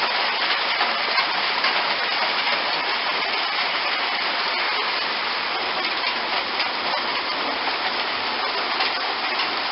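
Small hailstones fall steadily outdoors in early spring among bare trees, a dense, loud, even hiss of countless tiny impacts with no pauses or voices.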